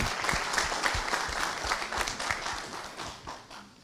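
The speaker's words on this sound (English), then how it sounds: "a big applause for him again" Audience applause fills a conference hall after an academic talk, a steady patter of many hands clapping at moderate volume that tapers slightly at the end.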